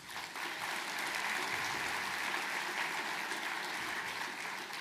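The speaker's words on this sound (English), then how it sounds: "Please give them a round of applause" At a conservation districts annual meeting, the audience applauds award winners with a steady, fairly soft wash of many hands clapping that rises quickly and holds, with no talking over it.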